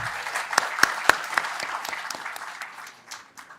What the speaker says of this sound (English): we should have a big cheer for her